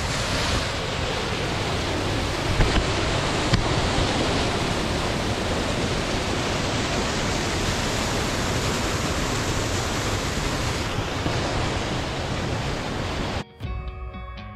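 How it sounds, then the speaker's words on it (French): Waterfall of Ilhéou lake high in the Pyrenees above Cauterets, a steady broadband roar of falling water with some wind on the microphone, loud and continuous, then cut off abruptly near the end. "On aperçoit la cascade d'Iléhou."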